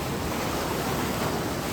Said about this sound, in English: the waves are breaking there and then they lose their energy